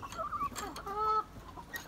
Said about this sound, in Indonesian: Nah, ini adalah ayam baretrok teman-teman.